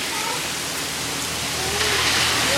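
Heavy rain pours steadily in Show Low, a dense continuous hiss that swells slightly toward the end, with no talk over it.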